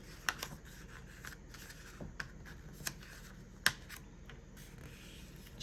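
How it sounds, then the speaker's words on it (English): Paper being folded over by hand while making paper earrings, heard as faint, close rustles and a few sharp crinkling crackles scattered through a quiet background. "I'm going to fold it over just like this."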